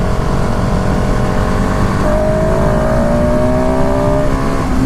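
KTM SMC R motorcycle, a 2019 single-cylinder supermoto, loud and close as its engine climbs under hard throttle, pitch rising steadily over a constant roar with wind rush.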